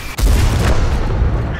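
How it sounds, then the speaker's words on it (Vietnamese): A TS-54 tank in World of Tanks fires one heavy, booming shot that rolls into a long, rumbling decay, loud and close. "Mình muốn bắn một loạt đạn để tiêu diệt."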